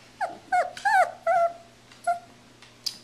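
A dog whines and whimpers close by in a run of high, wavering cries, with a low growl underneath and a constant hum in the background.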